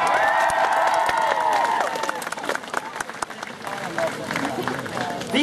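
An audience applauds and cheers at a cosplay prize award ceremony at Närcon Summer 2014, honoring a second-place Barbie cosplayer; steady, dense clapping fills the hall, thinning toward the end with scattered claps and crowd noise.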